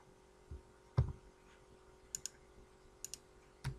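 Computer keyboard arrow keys are tapped in LibreOffice to nudge an object on a slide, giving sparse, quiet clicks: a single press, then paired taps spaced out over a few seconds in a quiet room.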